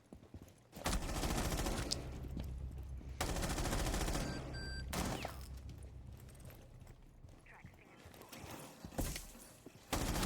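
Rapid bursts of video game gunfire crack out in dense clusters, loud and close, broken by short quieter gaps with a brief tonal beep partway through.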